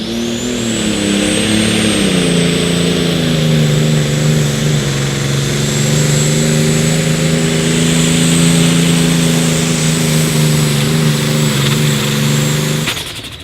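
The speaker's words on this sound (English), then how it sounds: "Clutch turned loose, motor was coming down, turning the clutch loose." A Deutz-powered pro stock pulling tractor at a Rock Valley Friday night outlaw pull roars loudly and steadily under load for about thirteen seconds, its pitch dipping and climbing slightly before cutting off abruptly near the end.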